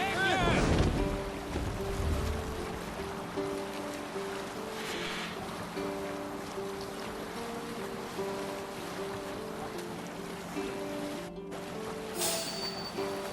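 A sailboat moves across open water in a video game, with a steady wash of water and wind-like rushing throughout and a low, even engine-like hum beneath.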